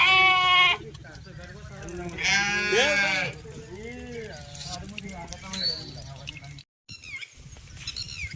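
Sheep bleating repeatedly on a farm after rain, several loud, wavering calls close by with overlapping bleats, and a brief silent gap near the end.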